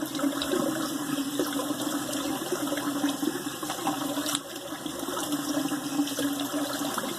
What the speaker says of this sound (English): so let the water out